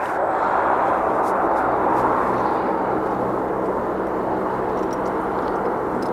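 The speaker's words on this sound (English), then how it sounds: "They're quite loud for the size of them, for such a small plane." A small plane roars close by at Aberdeen Airport, a loud, steady broadband engine rumble holding through the whole stretch with no speech over it.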